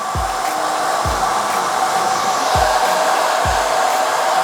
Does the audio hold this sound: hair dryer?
yes